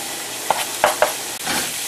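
Diced onion and crushed garlic sizzle in a skillet with bacon under a steady frying hiss, broken by a few sharp scraping stirs, close and alone.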